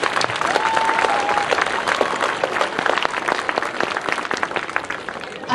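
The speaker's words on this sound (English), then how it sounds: "So please, let's give a round of applause to the Little League board." A crowd at a Little League opening day ceremony applauds the league board with steady, dense clapping over several seconds, fairly close and loud, with a brief whistle early on.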